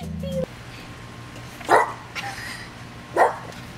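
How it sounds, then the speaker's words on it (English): A dog barks twice, sharp and fairly close, spaced over a few seconds, with a short bleat of other sound just before and no talking. "What are you barking at?"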